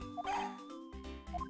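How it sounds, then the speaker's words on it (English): A police dog in the Ace Attorney Investigations video game barks in quick yips over steady game music, a few sharp bursts close to the front of the mix. "a police dog that dashes out in front and attacks"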